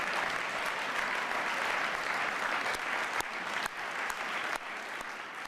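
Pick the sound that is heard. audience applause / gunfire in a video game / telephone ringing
audience applause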